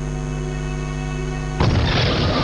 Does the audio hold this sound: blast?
yes